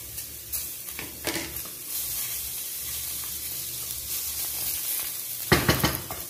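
Bell pepper and pimenta de cheiro hit hot fat in a pan, sizzling steadily for a fish sauce, with sharper hissing bursts from stirring near the start and again near the end.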